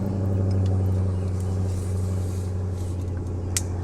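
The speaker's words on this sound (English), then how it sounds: "just started her very loud car" A neighbor's very loud car starts up nearby, giving a heavy, steady low engine rumble that idles on throughout, alone without talk.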